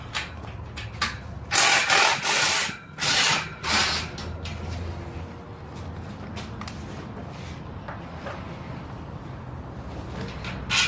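A ratchet works a 13 millimeter bolt loose during a 22-foot door replacement, giving several close, loud bursts of rapid clicking, followed by quieter handling noise.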